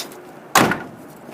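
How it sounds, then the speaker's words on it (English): A door on a 1972 Chevy Nova shuts with a single solid, close thud after a quiet moment, then the sound quickly fades; no talk. "We actually have one door that opens and closes really well."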